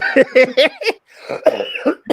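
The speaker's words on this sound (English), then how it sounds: "Excuse me, people, for coughing." A person coughs in a quick burst of several harsh, close coughs, pauses for a breath, then coughs again a few more times.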